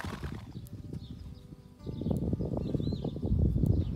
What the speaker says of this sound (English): but there were also the horses.